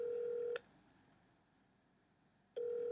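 A steady electronic phone tone sounds, stops for about two seconds of near silence, then starts again, a call ringing out on a handset.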